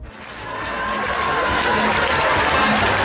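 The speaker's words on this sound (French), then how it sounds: "On les applaudit plus fort que ça, s'il vous plaît." Crowd applauding and cheering at a 2013 outdoor event, a steady dense wash of clapping that swells slightly and holds loud throughout.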